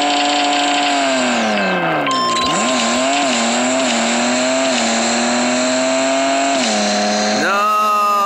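A racing video game car's engine revs loudly and steadily, its pitch dipping and climbing through gear changes, with a brief tire squeal near the start and a rising rev at the end.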